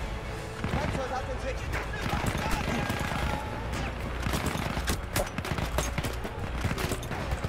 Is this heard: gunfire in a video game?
yes